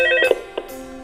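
A phone rings as a call comes in, recorded for a game's sound design: short, bright electronic tones that repeat in quick bursts, loud and close, with no talking.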